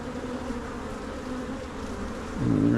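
Honey bees buzz steadily in an open hive full of brood and honey, a continuous close drone that swells louder and denser near the end.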